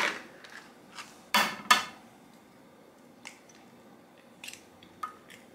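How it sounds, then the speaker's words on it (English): Eggs being cracked into a bowl of French toast batter with nutmeg: two sharp, close cracking taps in quick succession, followed by a few faint clicks and small kitchen knocks in a quiet room. "And then we're gonna crack a couple of eggs in here."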